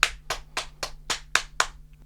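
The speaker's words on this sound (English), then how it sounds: "Round of applause." Seven slow, evenly spaced hand claps from a single person, crisp and close in a quiet room, spaced about a quarter second apart.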